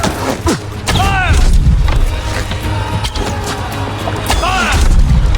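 Repeated booming gunfire volleys in Assassin's Creed Valhalla during a convoy battle against Picts, loud blasts recurring across the scene amid shouting voices and battle noise.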